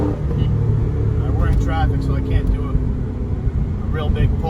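A 750 hp 2006 Ford GT engine rumbles steadily with a low, continuous drone, rising slightly under about one-eighth throttle in traffic amid road noise, with a short spoken phrase partway through.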